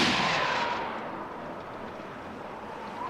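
A rifle volley fired as a funeral salute cracks loudly at the very start, its echo rolling away and fading over about a second into quiet outdoor ambience, with no talk.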